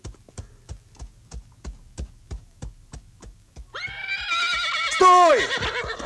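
A horse neighs loudly and close, a long shrill whinny that falls in pitch, following a steady run of rhythmic hoof clip-clops in a 1981 historical film.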